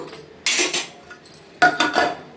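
Starchy cooking water pours off 80-percent-cooked rice from a pot while making soya keema dum biryani, two bursts of splashing, clinking pot-and-lid noise, close and fairly loud.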